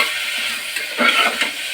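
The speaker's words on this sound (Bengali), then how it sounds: "তো এটাকে একটুখানি ভাজা করে নিই, আর সাথে দিই একটুখানি গোলমরিচের গুঁড়ো" Chicken pieces fry in a pan with ground black pepper for a vegetable chicken soup, a bright close sizzle with a burst of stirring and spatula scrapes midway, no voices.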